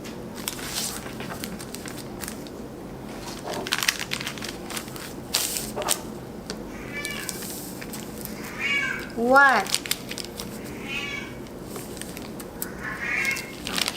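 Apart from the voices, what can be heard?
pet cat meowing, calling for attention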